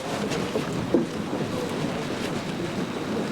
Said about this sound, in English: this wind is kind of the equalizer